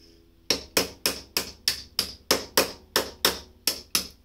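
A metal part is tapped into a 3D printed cog for a high-torque robot arm, about a dozen sharp, evenly spaced hammer-like knocks in a steady rhythm, close and fairly loud, with no talking.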